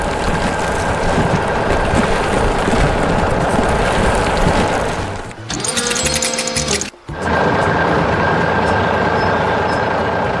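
A loader clears away rubble and debris at a building site, its engine droning loud and steady with a clattering whirr, briefly dropping and cutting out before running on.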